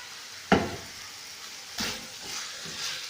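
Chicken pieces frying in a hot pan for a homemade pizza topping, with a sharp sizzling burst followed by quieter, softer crackles of spitting oil at a low level.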